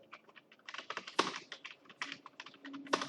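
Quick, irregular clicks of fingers typing on a computer keyboard while entering text, close and fairly soft, with short pauses between bursts of keystrokes.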